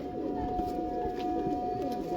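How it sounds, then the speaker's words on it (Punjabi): Pigeons in a 40-bird loft, soft cooing mixed with a steady background hum, close and continuous over two seconds. "40 ਕਬੂਤਰਾਂ ਦਾ ਸੈਟਅਪ ਆ,"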